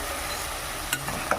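Water spinach (kalmi shak) frying in a pan gives a soft, even sizzle, close and fairly quiet, with a couple of brief stirring scrapes near the end.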